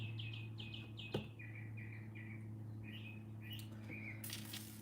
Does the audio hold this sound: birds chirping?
yes